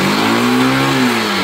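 A Yamaha SZ motorcycle engine with a throttle cable problem revs loudly and close, a sustained rising and falling drone lasting about a second and a half.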